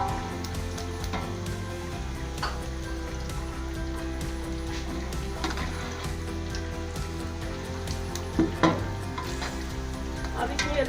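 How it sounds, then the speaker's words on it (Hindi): Whole garam masala frying with golden-browned onions in a pan for chana pulao, giving a steady close sizzle throughout with occasional stirring clatter and no voices. "तो अब हम इसमें ये साबुत गरम मसाला डाल देंगे। थोड़ी देर इसको फ्राई करेंगे।"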